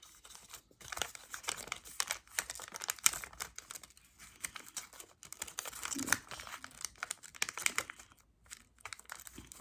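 Paper is pressed and folded for an origami squirrel, making dense close crinkling and rustling with quick crisp creases and brief pauses, quiet and with no voices.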